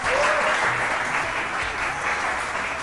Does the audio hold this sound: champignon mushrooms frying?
no